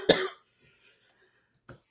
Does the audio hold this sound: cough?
yes